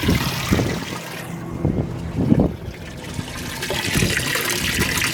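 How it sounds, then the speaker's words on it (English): A boat's live well aerator pumping water, heard as a steady rushing, splashing flow with gurgling bursts, fairly close and continuous throughout, with no one talking. "Your aerator switch right here controls water pumping in."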